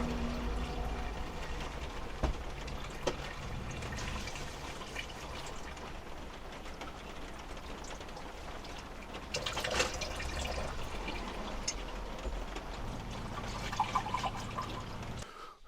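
Water runs steadily from a motorhome sink tap, a soft close trickle and splash that continues throughout with a few brief knocks.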